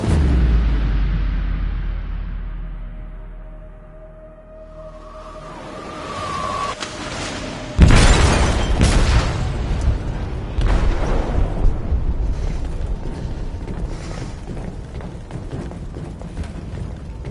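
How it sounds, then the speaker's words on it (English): An explosive detonates in a ship's hold in the video game Detroit: Become Human: a low rumble fades, then a sudden heavy boom erupts and is followed by sustained roaring, crashing debris and rumble. "They detonated an explosive in the hold."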